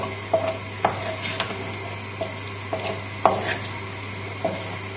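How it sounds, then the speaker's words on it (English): A spoon stirs mascarpone into butternut squash in a hot pan: light, irregular scraping and tapping strokes against the pan over a steady low sizzle, close and clear with no talking. "So just stirring it lightly, just helping it melt."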